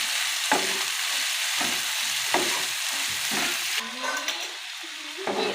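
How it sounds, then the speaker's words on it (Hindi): Chicken with red chilli, turmeric, cumin and salt sizzles and fries on a tawa, with steady loud frying and repeated scraping stirs throughout, no talking. "तो हम इसे 1 से 2 मिनट तक इसी तरह भूनेंगे।"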